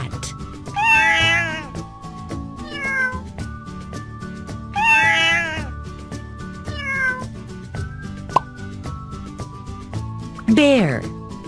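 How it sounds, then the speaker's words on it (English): Domestic cat meowing in a children's animal-sounds learning compilation, two clear bursts of repeated meows with a few shorter mews between, close and loud over a steady music bed. "Cat."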